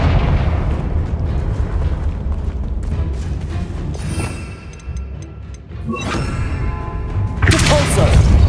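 Confringo fire spell blasts in the video game Hogwarts Legacy, heavy booming bursts layered over dense, continuous game noise, with another loud surge near the end.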